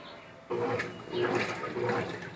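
Washing machine sloshing water in its tub after being switched out of turbo mode, a steady wet churning with rhythmic surges, close and moderately loud with no talk.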